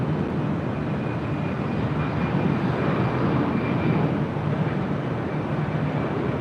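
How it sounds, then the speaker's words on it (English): A JetBlue Airbus A320 in Boston Red Sox livery arrives at LAX from San Francisco, heard as a loud, steady, broadband jet roar that holds its level throughout without any talk. "Next arrival is the JetBlue in the Boston Red Sox livery, flight 535 A320 coming in from San Francisco."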